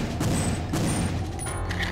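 Gunshots in Perfect Dark ring out as a few sharp blasts over a dense, noisy game soundscape, loud and close.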